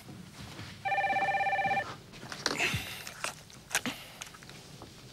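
Telephone rings indoors in a Croatian TV drama scene. One steady electronic ring lasts about a second, then footsteps and soft knocks follow nearby.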